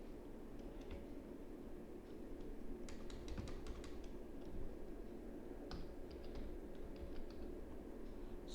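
Typing on a computer keyboard while building a 3D model: faint, irregular clusters of light key clicks over a soft background hiss, with short pauses between bursts.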